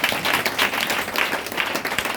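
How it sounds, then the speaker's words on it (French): Applause from a congregation at a church service, steady dense clapping filling the space at moderate loudness with no break, no voices rising above it. "Est-ce que tu peux l'acclamer chez moi?"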